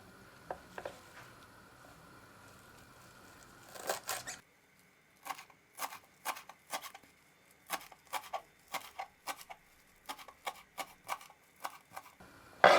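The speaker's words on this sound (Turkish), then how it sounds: "şöyle çeyrek demet maydanoz şöyle 4-5 dalda soğanı ince ince doğruyorum" Crisp knife taps on a cutting board as parsley and green onions are finely chopped, a steady series of quick chops after a brief bit of clatter, close and fairly loud, with no talking.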